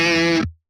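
An electric guitar through an emulated Vox AC30 amp rings out a single bright, crunchy sustained chord that cuts off sharply after about half a second, loud and alone.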